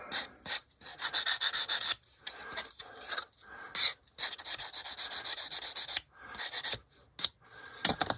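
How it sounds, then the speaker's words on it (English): Rapid back-and-forth rubbing of a sanding stick on a resin scale-model car body, close up, in bursts with short pauses between strokes. "give it a little rub with a sanding stick here to smooth it out"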